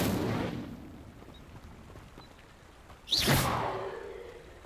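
An Incendio fire spell cast in the Hogwarts Legacy video game bursts out as a sudden whooshing blast, loud and rushing, then settles into a fading roar after a quieter rumbling stretch.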